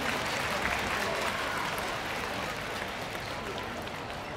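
At a basketball game, a crowd fills the arena with sustained applause of encouragement for an injured player, a steady, fairly distant wash of clapping with a faint voice under it.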